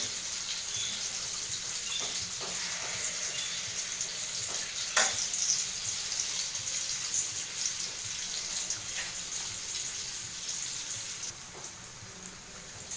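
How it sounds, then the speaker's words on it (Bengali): Dhuska batter cakes frying in oil in a flat wok, a continuous soft bubbling sizzle with faint clinks and occasional stirring, fairly quiet and steady. "তো ধুসকাগুলো আমি এভাবে ভাজি আর তারপরে আলুর দম করব।"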